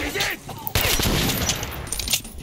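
Dense gunfire bursts out in the video game Metro Last Light Redux, loud and close, as rapid shots crowd together after a brief lead-in and continue to the end.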